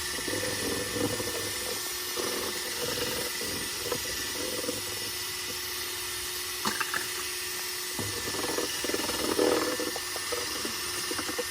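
Continuous whirring of a power drill spinning a wooden spoon to mix pancake batter, a steady loud motor drone with a sloshing, churning texture throughout.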